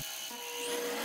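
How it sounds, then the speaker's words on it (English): A steady, harsh whirring abrasion hisses continuously, a sanding disc grinding against white oak on a lathe at close range. "polish off the knob with a sanding disc"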